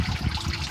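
Water trickles and splashes through a PVC down pipe and elbow in a school aquaponics system, making a steady close-up gurgling, bubbling flow.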